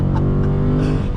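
A 2020 Dodge Challenger Scat Pack 50th Anniversary with an 8-speed accelerates from a dead stop, its loud, deep engine note droning steadily with strong harmonics and rising slightly in pitch toward the end.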